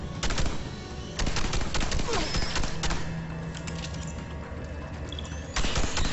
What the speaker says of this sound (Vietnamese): Cái súng này bắn những cái cục xịt ấy.